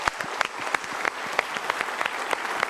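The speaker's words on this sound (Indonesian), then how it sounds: "Kita berikan tepuk tangan untuk mereka." Studio audience applause on the Mario Teguh Golden Ways talk show, sustained clapping from a sizable crowd with sharp individual claps standing out.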